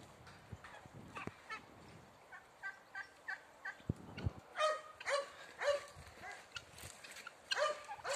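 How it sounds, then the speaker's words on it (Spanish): Guinea fowl call in a flock with harsh, repeated cackling cries, some barking-like notes, fairly faint and scattered, growing busier partway through. "Estas son mis gallinas de Guinea de todas razas"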